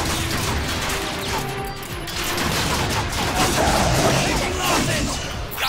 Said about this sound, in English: Grenade downrange!